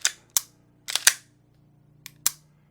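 An STI Staccato C compact single-stack 9mm pistol fires six sharp, loud shots in uneven bursts: two single reports, a quick triple, a brief pause, then one more, each cracking close and dying off fast.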